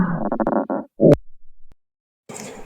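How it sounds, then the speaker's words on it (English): Human stomach gurgles in short bubbly rumbles, a quick burst of rolling churns followed by a louder squelching gurgle, close and clear with silence between. "Stomach gurgle"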